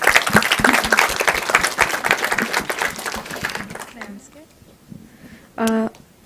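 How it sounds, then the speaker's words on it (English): A Q&A audience at a peace and sustainable development master class claps loudly and densely, the applause fading out over a few seconds before a brief tone and quiet talk. "One round of applause."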